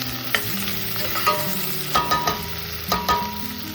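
Spice masala sautéing in a pan for stuffed baby eggplants, a steady sizzle punctuated by several crisp spatula scrapes and taps in irregular rhythm, close up and free of speech.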